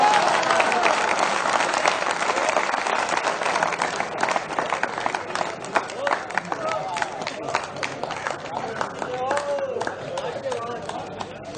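Applause from the audience at a Hindi comedy poetry gathering, a dense rush of clapping that gradually thins into sharper, separate claps, with a performer's voice speaking over it in the later part.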